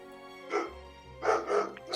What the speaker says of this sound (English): we heard the dog barking on call